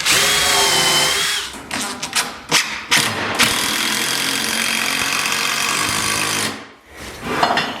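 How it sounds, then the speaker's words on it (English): Power drill pre-drilling holes in lumber for a trestle-style picnic table, heard up close as several loud whirring bursts of varying length with brief pauses between them, then one long sustained run that winds down near the end. "I'm going to go ahead and pre-drill some holes."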